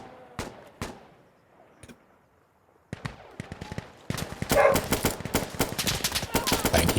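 Gunfire in the tactical shooter Insurgency: Sandstorm, with a few isolated sharp shots early, a pause, then rapid dense bursts growing louder and closer toward the end.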